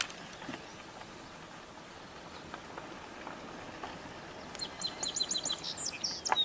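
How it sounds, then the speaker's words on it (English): A song sparrow sings faintly at a distance outdoors, a short run of high, bright notes coming in near the end of a quiet natural soundscape. "Song sparrow."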